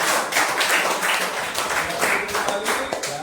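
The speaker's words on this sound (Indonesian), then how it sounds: "tepuk tangan dong buat teman-teman" A classroom of students claps for a group of classmates, brief rhythmic applause with overlapping hand claps and some voices underneath.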